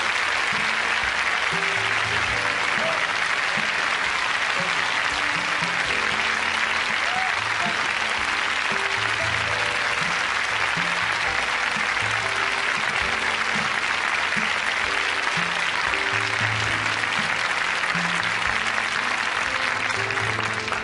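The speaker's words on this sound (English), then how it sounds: "Let's give Mrs. Rosa Parks a round of applause, if you please." An audience at a motivational speech event bursts into sustained applause, a thick, unbroken roar of clapping that continues at full strength for about twenty seconds.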